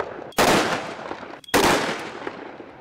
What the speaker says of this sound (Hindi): ये ग्रीन पटाखे हैं, इसमें आवाज होती है